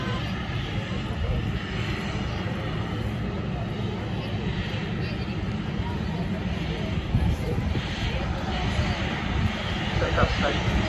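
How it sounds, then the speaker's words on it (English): A large aircraft turns off the runway at Manchester Airport, its jet engines a steady, broad roar that stays close and loud throughout. "the aircraft is turning off the runway and vacating the runway just in front of us"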